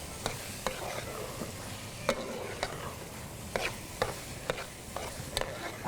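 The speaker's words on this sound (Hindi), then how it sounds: "थोड़ी सी बारीक कटी हुई अदरक, हरी मिर्च पहले डाल दूँगी। ज़रा सी मैं भुनाई करूँगी।" Finely chopped ginger and green chilies frying in oil in a karahi, a soft steady sizzle with sharp clicks and scrapes from a spoon stirring at intervals, close but fairly quiet, no voices.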